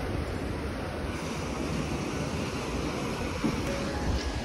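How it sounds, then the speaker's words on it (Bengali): Sea waves wash onto a beach near Digha, a steady broadband rush of surf blended with wind noise that stays constant throughout, with no one talking. "দেখো কি সুন্দর ঢেউ,"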